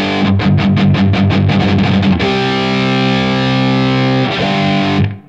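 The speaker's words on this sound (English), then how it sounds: "I would add a reverb to that" Distorted electric guitar through Guitar Rig 6 Player plays a rhythmic chugging riff, then rings out in long sustained chords with a spacious studio reverb tail before stopping.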